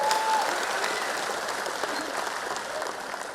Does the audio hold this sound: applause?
yes